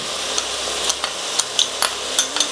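Ginger and garlic, two cups of each, sauté in a pan as the base for a chicken curry: a steady low sizzle broken by sharp scraping clicks of stirring that come every half second or so, close and fairly loud.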